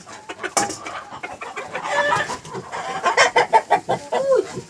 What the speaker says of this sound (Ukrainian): всі кури зайшли вже сюди